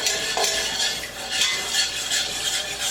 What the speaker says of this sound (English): I'll put 2 cups of 50/50 in our mixture, okay? And you're just gonna whisk it in.